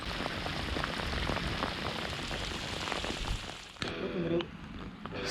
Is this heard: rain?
yes